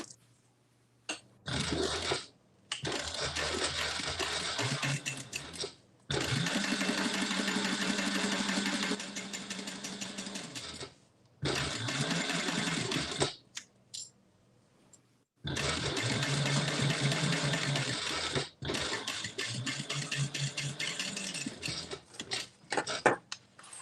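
A home sewing machine stitching a CZAW pattern in bursts, loud steady whirring runs separated by short pauses, repeated across the stretch with no talk.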